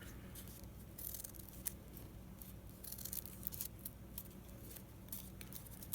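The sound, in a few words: scissors cutting folded paper for a stencil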